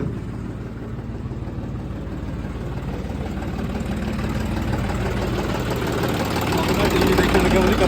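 A tractor engine runs steadily at night, a continuous low rumbling drone that holds at an even level and swells slightly toward the end, with voices talking faintly over it.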